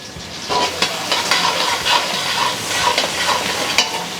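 Ginger and asafoetida fry in a pan with a steady, close sizzle, while a spoon stirs in repeated scraping strokes throughout.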